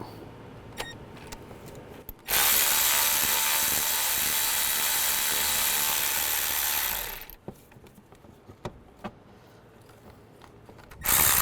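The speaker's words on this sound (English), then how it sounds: "There's a 10mm socket. Just take the bolt out." A ratchet with a 10mm socket backs out the radiator fan bracket bolts on a 2005-15 Nissan Xterra, giving a loud, sustained whirring burst of several seconds, then scattered clicks and a second burst at the end.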